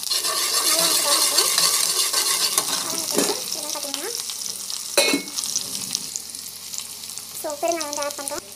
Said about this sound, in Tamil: கடுகு ஆனியன் வந்து சின்ன ஆனியன் வந்து போட்டுருக்கோம்